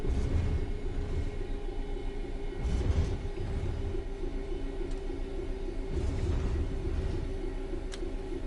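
A train in a train simulator game coasts on level ground, a steady low rumble of wheels and rolling stock with faint rhythmic clicks, continuous and fairly quiet with no talking.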